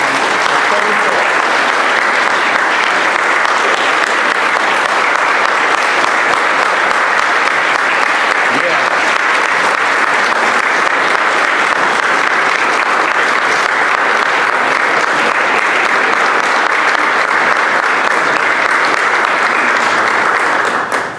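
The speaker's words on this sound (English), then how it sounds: "a big round of applause for Debbie Shirley, who served the county for 34 years" At a county swearing-in ceremony, an audience gives Debbie Shirley, a long-serving county employee, a big round of applause: dense, loud, sustained clapping from a full room that continues steadily for about twenty seconds before cutting off.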